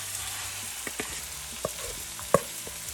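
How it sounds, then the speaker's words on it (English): Beef sears in oil in a hot pan for beef and broccoli, a steady close crackling sizzle with scattered sharp pops and a few spatula taps, and no voices. "Now I'm going to put some oil in a very hot pan. I'm going to put our meat."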